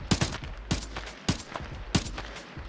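Gunfire in the video game Arena Breakout Infinite: three sharp bursts of shots spaced about 0.6 seconds apart, each followed by a short echoing tail, fairly close and loud.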